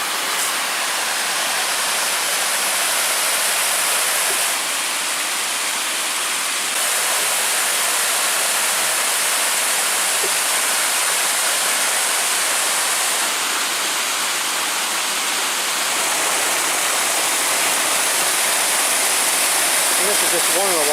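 Waterfall near Mosquito Falls at Pictured Rocks, Michigan, a steady loud rush of falling water that fills the whole clip, constant and close with no break.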